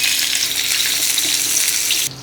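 Garlic and onion sauté in oil outdoors for crispy and adobo pork intestine, a bright, loud, steady sizzle that drops abruptly near the end, no talking.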